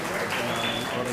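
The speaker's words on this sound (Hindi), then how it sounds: "मैं चाहता हूं कि एक बार भरपूर तालियों में इस्तकबाल कीजिएगा" Audience applause at an Urdu poetry mushaira, a brief, dense burst of steady clapping from a crowd, with a voice faintly audible underneath.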